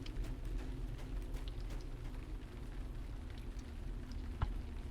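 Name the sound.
rain in the Barrow-Downs in the video game Lord of the Rings Online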